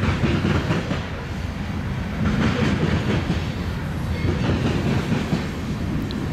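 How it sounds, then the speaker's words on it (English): A long mixed freight train on the old Chicago Northwestern Mason City subdivision rumbles past close by, steady heavy roar of railcars with rhythmic wheel clatter over the rails, loud and continuous, no talking. "Pretty good size mixed freight."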